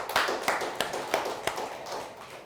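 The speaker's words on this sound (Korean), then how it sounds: "박수 한번 합시다" A church congregation claps together during a sermon, sharp separate claps landing at a steady, even pace over a soft room murmur.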